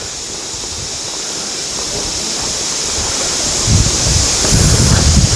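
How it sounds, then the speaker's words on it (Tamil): Small forest stream along the Agasthiyar Malai trek in the Pothigai hills, a steady rush of flowing water with wind buffeting the microphone and growing a little louder toward the end, with no voices. "அடுத்து ஒரு சின்ன நீரோடை வருது"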